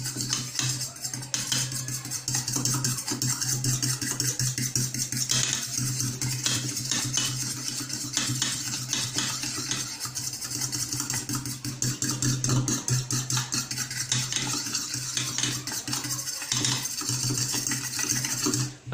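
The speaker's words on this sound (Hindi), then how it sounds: "बस चिली सॉस डालेंगे और हम इसको अच्छी तरह मिक्स करेंगे।" A spoon scrapes and clinks steadily against a metal pan while chili sauce is stirred into a sauce mixture for a zinger burger, with continuous close scraping and a low background hum.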